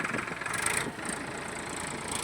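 A 45 hp tractor engine runs with a steady, rough rumble, slightly dipping and rising in pitch, close by with no talk.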